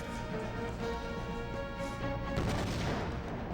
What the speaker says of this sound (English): That was just an explosion sound.